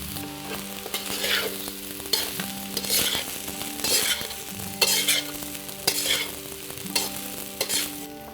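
Cooked basmati rice and mixed vegetables stir-fried in a hot pan, with a steady sizzle and repeated scraping strokes of the spatula at an even rhythm, close and moderately loud with no talking.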